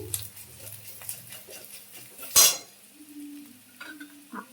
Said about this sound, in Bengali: পেঁয়াজটা ভাজা ভাজা হয়ে গেছে, এবার রসুনটা দিয়ে দিচ্ছি